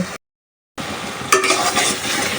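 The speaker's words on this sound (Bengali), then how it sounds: "পেঁয়াজ রসুন দিয়ে দিলাম হালকা একটু ভেজে" Onion and garlic sizzle lightly in a hot pan with oil, a steady close frying hiss that cuts out briefly, then returns with stirring scrapes, while cooking Bangladeshi salted hilsa with potatoes.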